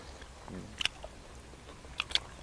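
Close, crisp crunching bites of boiled pork lung with soft chewing between them, two sharp crunch bursts standing out over a quiet background.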